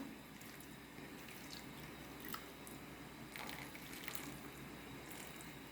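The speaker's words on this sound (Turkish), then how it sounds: "Birazcık daha su koyacağım." Hot water being poured into a cooking pot for a meatball dish, a steady soft splashing and gushing that runs for several seconds at moderate distance, with no talk over it.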